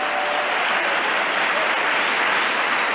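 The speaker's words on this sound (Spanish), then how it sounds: "Un aplauso fuerte" Applause from a church congregation, a dense steady hiss of many hands clapping together, fairly loud and unbroken, with no voices on top.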